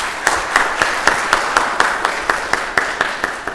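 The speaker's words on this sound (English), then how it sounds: "Could I just get another little brief round of applause for the Declaration of Independence?" Brief round of audience applause at an Independence Day reading of the Declaration of Independence, steady, moderately loud clapping from a small crowd with individual claps audible.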